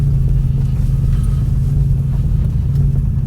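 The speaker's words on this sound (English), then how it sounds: "the car's sounding alright at the moment" An Audi RS6 engine idles in a parking lot, giving a steady, loud, deep rumble that holds even throughout with no revving or speech.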